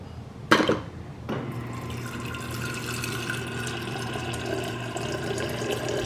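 Water pours into a container while green juice is being made, a splash followed by a steady close filling sound that continues throughout.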